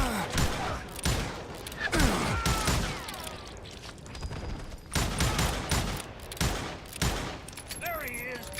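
Rapid gunfire during a Western video game shootout, sharp repeated shots crowding the scene with ricochet-like whines and chaotic action noise, with voices shouting among them.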